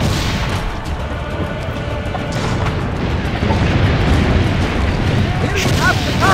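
Cannon fire during a defensive battle in Assassin's Creed Brotherhood, a dense, loud rumble of booms and crashing impacts that swells in the second half, with faint voices mixed in.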